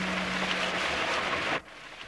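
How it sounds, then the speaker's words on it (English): Cartoon rain pours down steadily on a wet village day, a continuous loud hiss of falling water that cuts off sharply near the end. "It was still raining when Pat reached the village post office."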